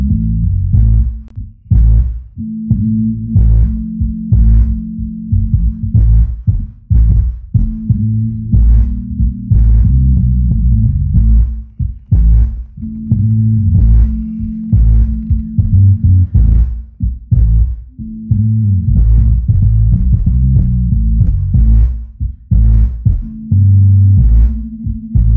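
A bass-heavy music track played loud through a Bose Sub2 subwoofer, with deep throbbing low notes pulsing in a steady rhythm and faint percussive clicks above, sustained and booming throughout.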